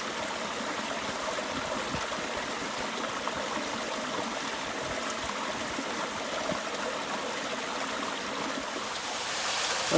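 Steady, full rushing of a waterfall along a hiking trail, a constant broadband roar that holds evenly throughout and swells slightly at the very end.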